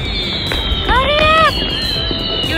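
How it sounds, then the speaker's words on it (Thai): New Year 2023 fireworks go off outdoors as scattered distant pops and a brief whistling tone. People chatter nearby over the fireworks. "แล้วก็เดินมาดูพลุตรงนี้นะคะ"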